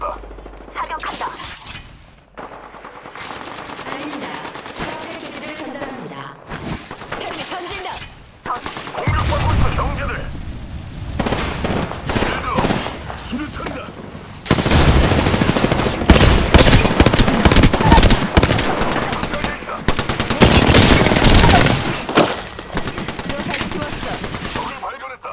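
Loud bursts of automatic gunfire from an Apex Legends match, rapid fusillades in several dense volleys with brief gaps between them, the heaviest runs coming later, mixed with clattering game effects.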